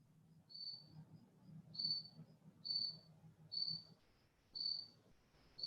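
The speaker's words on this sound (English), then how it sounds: "there were literally crickets when I asked that question" Crickets chirping in quiet surroundings, a faint, evenly spaced series of short high trills repeating about once a second over a low background hum.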